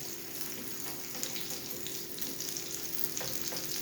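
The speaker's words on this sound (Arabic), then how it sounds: "راح نخليها تكمل تتقلى" Stuffed potato and tuna patty frying in oil in a pan, a steady close sizzle and crackle that runs without a break, with no talk.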